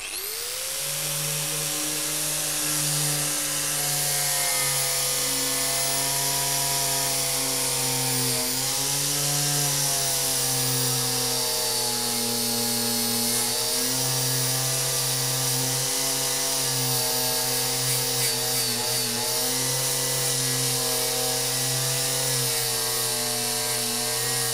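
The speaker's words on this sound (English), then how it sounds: "the only thing which was left to me and which is actually working is angle grinder and wire wheel" An angle grinder fitted with a wire wheel works over the dial of an 1885 tower clock, a loud sustained whine that holds steady and wavers slightly in pitch as the wheel presses the metal, with no talk.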